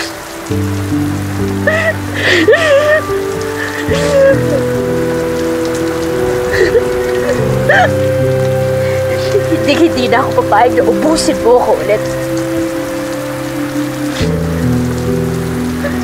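Steady rain falls throughout, a constant hiss heard under a tense emotional conversation between a man and a woman, with music playing beneath.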